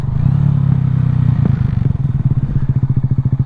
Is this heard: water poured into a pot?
no